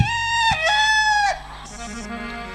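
A voice mimics a rooster's cock-a-doodle-doo, loud and close: a long strained harmonic crow with a rising middle and a trailing, fading end.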